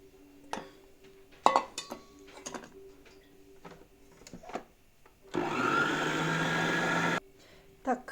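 Scattered clinks and taps of bowls and utensils give way to an electric mixer whipping egg yolks with softened butter for a lemon cake, a loud steady whir of about two seconds before it stops.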